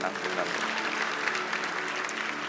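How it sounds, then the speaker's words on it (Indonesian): Applause from a church congregation after a prayer, a fairly quiet, dense wash of clapping heard from a distance, with murmuring voices underneath throughout. "Berikan tepuk tangan ya."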